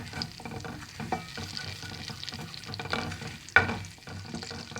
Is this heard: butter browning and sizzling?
yes